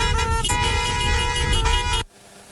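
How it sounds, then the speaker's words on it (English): Car horns honk loudly in a sustained, overlapping blare from several vehicles in a street celebration honoring healthcare workers, then cut off abruptly, leaving faint background noise. "getting loud with their car horns"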